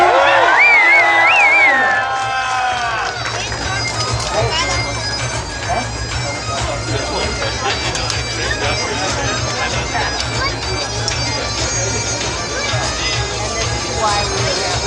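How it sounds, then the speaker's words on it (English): A crowd at a Renaissance festival armored fight, giving a cheer with a few whoops and a loud shout at first, then settling into a continuous murmur of chatter and scattered clapping. "applause."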